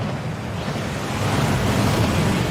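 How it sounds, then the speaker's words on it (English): A waterfall in the Hogwarts Legacy video game gives a steady, loud, broadband rush of falling water that swells slightly toward the end, alone with no voices. "That waterfall washes away all enchantments."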